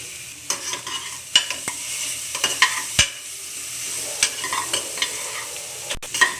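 Onions, slit green chillies and ginger garlic paste frying in a pan for jeera rice, stirred with a spoon: a continuous sizzle broken by repeated sharp scrapes and knocks against the pan, close and fairly loud.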